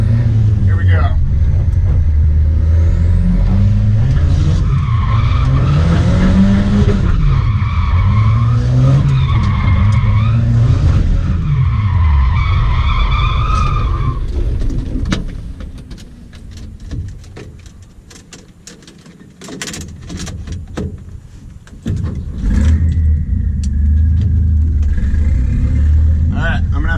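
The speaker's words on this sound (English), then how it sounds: "So I'm gonna have to precision my drift a little better so I can line it up into the cul-de-sac." A Volvo 740 drifts on a street toward a cul-de-sac, loud engine revving and sustained tire squeal for about fifteen seconds, then quieter skids, and the engine roars again near the end.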